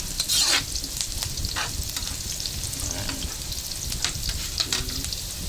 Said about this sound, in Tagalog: Hintay lang po natin mag golden brown yung bahagya yung ating bawang